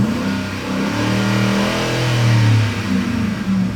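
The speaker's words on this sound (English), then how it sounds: "I give it the gas." A car engine revs up under throttle during a scan-tool misfire check, a loud, close rise and fall in pitch that swells toward the middle before easing back.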